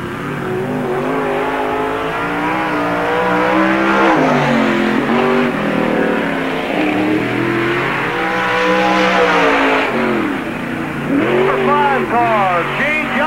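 Stock cars in a 1997 NASCAR Busch All Star Tour race at Park Jefferson Speedway roar around the track, engines rising and falling as they pass, loud and continuous under a track announcer's commentary.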